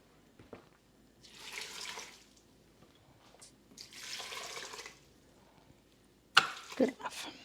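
Water from a kitchen tap runs into a pot for cooking dry black beans, in two separate rushing bursts with quiet gaps between, followed by a few sharp clanks and splashes at the end.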